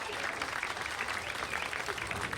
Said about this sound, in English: So a sympathetic cheer there for George.